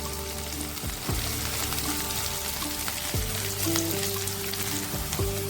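Beans, cauliflower and carrot fry in a pan, a steady close sizzle with occasional scraping stirs and clunks against the pan.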